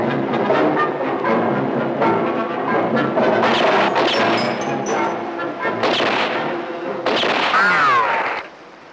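Gunshots from a 1966 Iranian film scene crack out in a rapid series of loud bursts over a busy soundtrack, ending with a sharp final blast before the sound cuts off.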